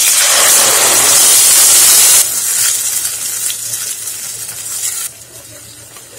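Tomato puree hitting hot ghee in a kadhai with whole spices and cumin, a loud hissing sizzle that eases off into steady frying and stirring, close up with no talking.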